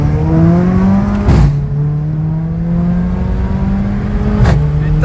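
A Mercedes-AMG A45 with a Milltek exhaust and Stage 2 tune accelerates hard, heard from inside the cabin as a loud rising engine drone, broken by two quick gear shifts.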